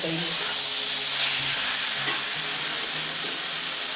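Mushroom curry is being stir-fried in a pan, giving a continuous loud sizzle and hiss with occasional soft scraping of the spatula, steady from start to finish with no talk.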